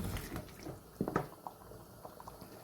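Water poured into a pot of beef trotter curry (paye) with chopped green chilies, a short splashing burst about midway, then quieter trickles and drips.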